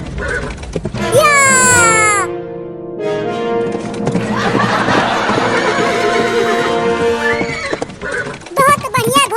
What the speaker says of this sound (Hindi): बहुत बढ़िया घोड़ा, ऐसे ही दौड़ता रह